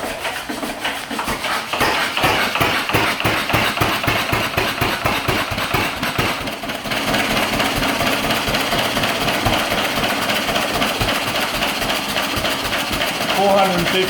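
A stationary engine running after its throttle lever is pushed, chugging in a fast, even rhythm of mechanical beats that stays loud and close throughout.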